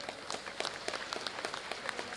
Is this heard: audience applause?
yes